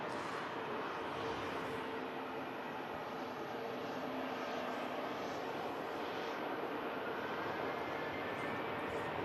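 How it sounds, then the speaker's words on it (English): A Ryanair airliner rolls the full length of runway 23 left at Manchester Airport in thick fog, a steady, distant engine roar that holds at an even, fairly faint level throughout. "Looks like the Ryanair using the entirety of runway 23 left"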